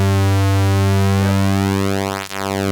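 Oberheim TEO-5 synthesizer with unison voices slightly out of tune, a steady sustained tone whose layered pitches slowly phase and sweep against each other, loud and alone with a brief dip near the end.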